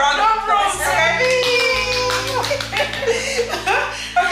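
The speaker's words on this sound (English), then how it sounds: "Give her a round of applause" Clapping and applause greet the first guest on a channel, a moderate burst of hands mixed with light laughter, heard over ongoing talk and a steady tonal background.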